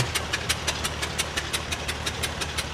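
A 1947 Case VA tractor rolling in a threshermen's reunion parade, its small engine chugging with a steady, even knock of regular beats at a moderate distance.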